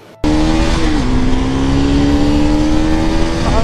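A Bajaj Pulsar NS200 motorcycle with stock exhaust cruises at over 90 km/h, its engine holding a steady, loud, close drone with a slight pitch dip early on, alone without talk.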